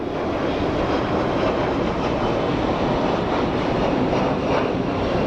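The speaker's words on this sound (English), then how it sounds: "And there goes our little Embraer" A small Embraer jet passing at Phoenix Sky Harbor airport, a loud, steady broadband engine roar that holds evenly throughout without rising or fading, no voices present.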